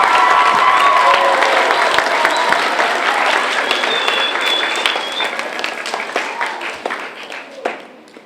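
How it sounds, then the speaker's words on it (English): An audience gives visitors a big round of applause: dense, loud clapping that starts at full strength and slowly thins and fades toward the end, with a few louder individual claps. "Let's give them a large round of applause."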